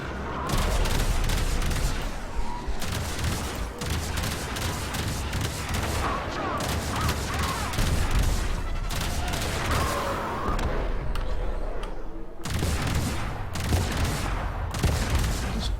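Explosions and weapons fire in the video game Warframe form a dense, loud barrage of booming blasts and rattling bursts, nearly continuous with only brief dips in intensity.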